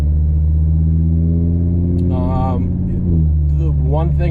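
Audi RS3 from 2019 fitted with an AWE track exhaust, a loud, steady low engine drone that persists throughout, with a slight swell near the end and someone talking over it.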